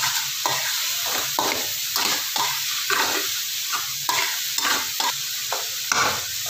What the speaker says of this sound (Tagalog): yung sibuyas na ginigisa natin